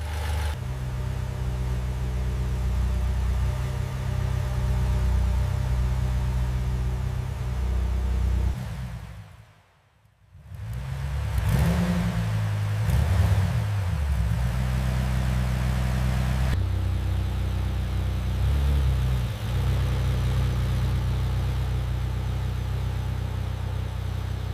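A Ferrari 488's twin-turbo V8 idles with a steady low drone, briefly cutting out for a moment before resuming at an even, smooth level.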